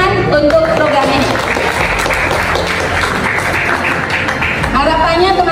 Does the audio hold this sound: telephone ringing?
no